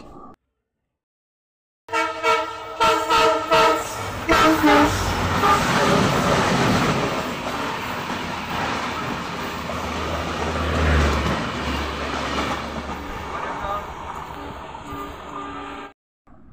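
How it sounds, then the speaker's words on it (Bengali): The Shatabdi Express roars past at about 120-130 km/h, loud and close. A horn sounds at the start, then a long rushing rumble that cuts off abruptly. "শতাব্দী এক্সপ্রেস দেখলে মোটামুটি 120-130 স্পিডে পার হয়ে গেল তুফানের মতো"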